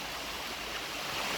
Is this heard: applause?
no